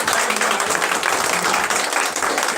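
Audience at a Hindi-language public rally on protecting the constitution and democracy gives a loud, continuous burst of applause, dense steady clapping filling the whole stretch.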